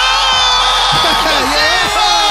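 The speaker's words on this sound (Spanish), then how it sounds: "¡Un fuerte aplauso!" A loud live audience at a semifinal stage of an entertainment show whoops, cheers and shouts, with rising and falling yells over a constant crowd roar close by.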